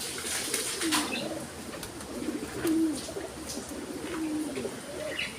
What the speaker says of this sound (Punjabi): ਆਪਣਾ ਦਾੜੀ ਵਾਲਾ ਕਬੂਤਰ